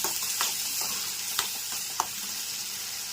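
Tomato paste is stirred into sautéed onions in a pan, a soft steady sizzle with a few light scraping clicks of the spoon, and no voices.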